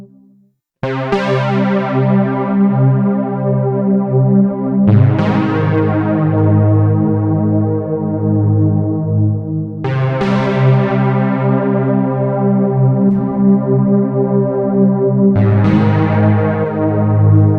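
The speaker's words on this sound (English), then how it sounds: "Maybe add some reverb to that." Sustained chords from an ASM Leviasynth synthesizer ring out loudly, each new chord struck every few seconds and trailing off with a washy plate reverb tail.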